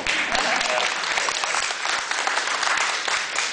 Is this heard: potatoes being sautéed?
no